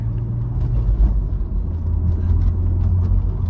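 An early-2000s BMW car shifting into third gear gives a close, low engine rumble with a slight dip and recovery over road noise inside the cabin.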